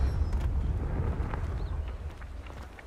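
A Confringo blasting spell goes off in Hogwarts Legacy, a loud rumbling explosion with deep low boom that sustains and slowly fades over about three seconds.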